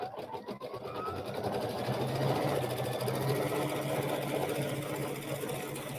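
A sewing machine runs steadily, stitching out background quilting on a quilt block, a continuous fast mechanical whir and hum lasting several seconds with no speech.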